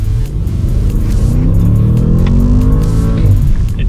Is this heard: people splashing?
no